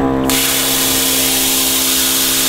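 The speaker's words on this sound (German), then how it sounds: "ich starte und gucke, wie lange der braucht, bis der Pilotlichtbogen kommt" A compressorless plasma cutter fires its pilot arc right away, giving a loud, steady hiss with a constant electrical hum underneath that continues alone.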